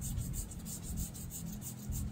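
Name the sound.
sanding guitar frets with fine sandpaper, Ibanez RG 350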